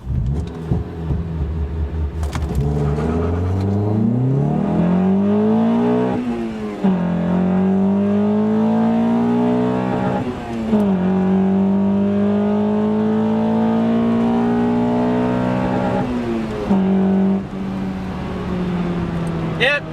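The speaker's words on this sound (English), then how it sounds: "I'm gonna push the car a little bit to see if everything works as it should once I redline the car" A Honda car engine is revved repeatedly toward redline, loud close droning tones climbing in pitch through several gear pulls with brief drops between, over a constant low rumble.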